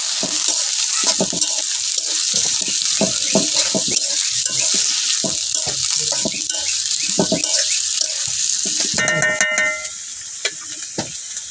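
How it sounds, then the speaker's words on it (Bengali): Water hits a pan of frying onion and ginger paste for a home-style chicken dish, setting off a loud, steady hiss and bubbling sizzle that continues close up before settling near the end. "এখন আমি পানি দিলাম"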